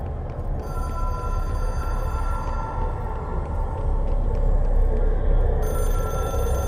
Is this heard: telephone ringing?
yes